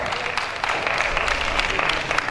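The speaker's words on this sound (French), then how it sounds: "S'il vous plaît, applaudissez pour cette dame de grand cœur." A crowd applauds steadily, dense clapping filling the space at a constant level for a couple of seconds.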